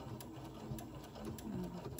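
A sewing machine stitches a fabric mask slowly, with a steady close motor whir and regular needle ticks throughout.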